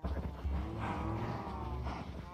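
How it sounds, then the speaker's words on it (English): Several cows in Minecraft moo in a low, overlapping drone, with deep calls swelling and fading continuously across the moment, loud and close with no talk over them. "Here's all the cows I have."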